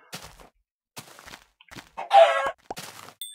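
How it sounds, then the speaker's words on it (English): A chicken in a video game clucks and squawks in brief, separated bursts, one louder cry standing out among quieter clucks. "Yeah, chicken's worth it."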